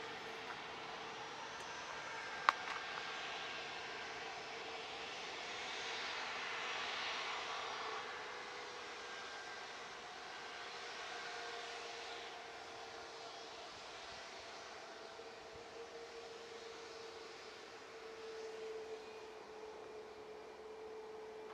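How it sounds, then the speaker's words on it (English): Aircraft noise at Manchester Airport: a steady, moderately distant engine roar and whine holds throughout, swelling gently at times, with a brief sharp click early on. "So hopefully you are hearing aircraft noise, because that is the dream."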